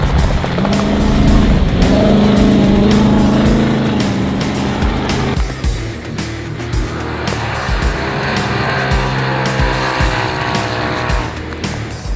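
Side-by-side off-road vehicles race through a treed section of the 2019 Gascoyne Dash prologue, loud engine roar and revving close by for the whole stretch, with tyre noise and gear changes marking the passing machines.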